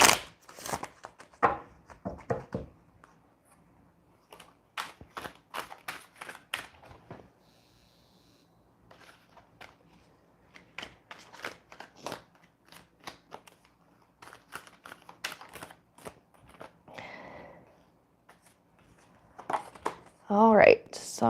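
Cards are shuffled for a reading with a string of quick, close riffling and snapping bursts scattered through the stretch, interleaved with a person talking.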